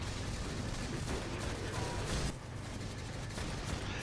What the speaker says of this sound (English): there's some sniper behind me shooting